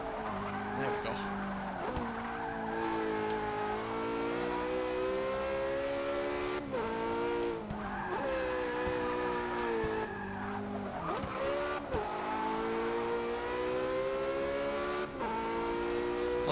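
A Porsche hybrid with a naturally aspirated V8 in Forza Motorsport 6 revs and shifts repeatedly, pitch climbing then dropping between gears, with tyre squeal mixed in; loud and close, engine continuous throughout.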